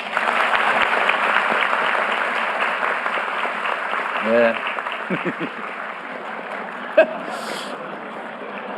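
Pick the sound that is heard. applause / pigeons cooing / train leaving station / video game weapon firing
applause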